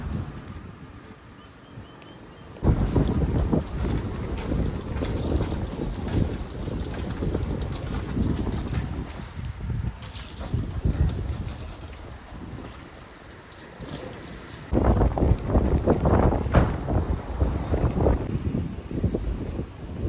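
Loud, rough rushing spray of water hits a car up close during a wash, starting abruptly, easing in the middle, then surging strongly again.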